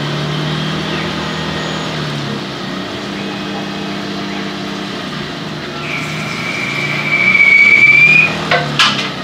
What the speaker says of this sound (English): the bar puller is gonna come and advance the stock